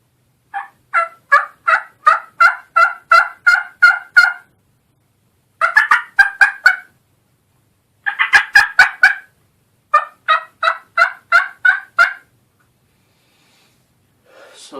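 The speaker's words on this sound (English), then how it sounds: "How to purr and cluck on a mouth call" Turkey mouth call worked in a steady series of short purrs and clucks, grouped in rhythmic bursts with brief pauses between runs, close and clear with no talking.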